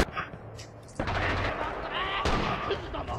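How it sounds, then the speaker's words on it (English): Machine gun fire in the video game Red Orchestra 2: Rising Storm, loud sustained bursts starting about a second in, with a louder burst near the end and faint game noise underneath. "It's a shitty machine gun, but it's bigger than my rifle."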